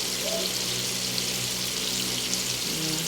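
Chicken wings fry in hot oil with a dense, constant crackling sizzle, close and fairly loud, while faint background tones and murmurs sit underneath.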